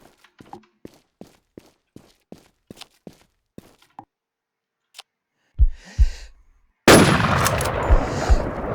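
A rapid series of evenly spaced sharp gunshots in the game Infestation: The NewZ, then a pause, a couple of heavy booming blasts, and a loud roaring explosion to close.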